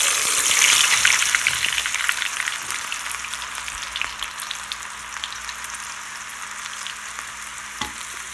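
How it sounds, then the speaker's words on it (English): Steady, dense sizzling of bitter gourd deep frying in hot oil, loud at first and easing slightly, with a few crackles and pops throughout. "I'm going to go ahead and put the bitter ground to deep fry"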